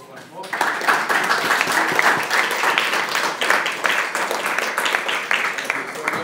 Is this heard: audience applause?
yes